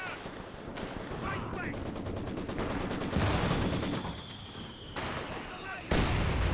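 120mm mortar rounds firing and impacting in the Company of Heroes 2 game, amid dense rattling gunfire and booms, a continuous battle din with repeated sharp bursts, fairly loud and busy from start to finish.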